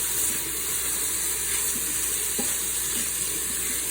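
Red beans and rice sizzle steadily in an Instant Pot while being stirred, a constant frying hiss with soft scraping and occasional light clicks of the spoon against the pot.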